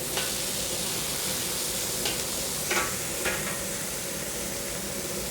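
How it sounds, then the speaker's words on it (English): Chicken and beef chow mein stir-frying in a Chinese restaurant wok, a loud continuous sizzle with a few scraping stirs of the utensil against the pan, close and steady. "This dish is called chicken and beef chow mein."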